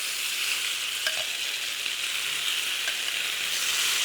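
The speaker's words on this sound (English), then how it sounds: "I am just going to go now get my beef in there." Beef strips sear in hot oil in a pan for kway teow, a loud, close, continuous hiss and crackle of sizzling with a few faint clinks of stirring, no voices.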